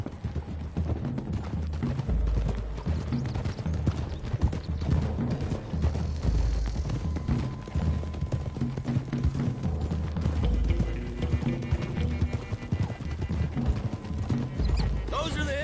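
Horses galloping in Red Dead Redemption 2, with steady clip-clop hoofbeats and an occasional whinny running under the game's background sound and a voice giving orders.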